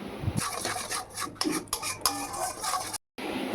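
A spatula scrapes and stirs onion, ginger, garlic and green chili paste in hot oil left from frying prawns, giving a rough, gritty rasp in uneven strokes, close up, with a brief dropout near the end.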